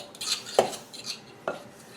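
Forks or knives cutting cold butter into biscuit flour in a bowl, used in place of a pastry cutter: soft scraping and rustling with two sharper metal taps against the dish, close up and without talk.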